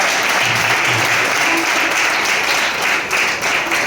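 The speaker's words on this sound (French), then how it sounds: "c'était un applaudissement." Loud, dense applause fills the room at a live performance at a venue in Togo, sustained and close with a slight dip near the end, with faint voices underneath.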